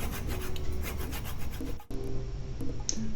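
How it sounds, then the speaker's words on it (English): A small hand saw works through a wooden peppermill blank on the lathe, a close rhythmic rasp of quick strokes that pauses briefly midway and then resumes. "I use a small saw to complete the separation of the parts."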